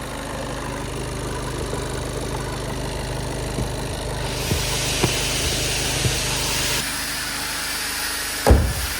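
Seat Leon with a 1.6 engine idles in traffic, a steady low hum with faint hiss inside the cabin, a few soft knocks and a louder thump near the end.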